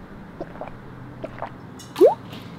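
A drink is poured from a bottle into someone's mouth: soft scattered drips and wet squishes, then one louder gulping splash near the end, all close and fairly quiet.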